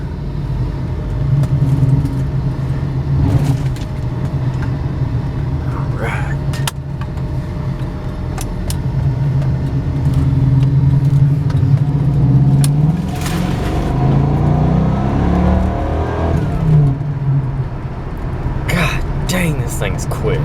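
A 1996 Buick Roadmaster wagon with its 5.7-litre LT1 V8 pulls away and accelerates, the low engine rumble building steadily. People talk over it, and there are a few clicks and rattles inside the car.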